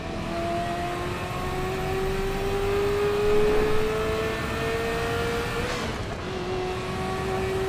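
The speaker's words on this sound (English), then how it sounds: "It's a classic 80s or 90s Ferrari. There we go. And this one is manual. I love the sounds. Ferraris have great sounds." A classic 1980s or 1990s Ferrari with a manual gearbox drives in a racing video game, its engine note climbing in a long rev, briefly dipping at a gear change, then pulling again, loud and close with no voices.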